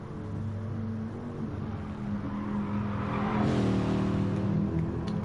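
A GT race car in a sim race at Spa-Francorchamps screams down the straight, its engine note climbing steadily and loud with a brief lift near the end as the driver brakes.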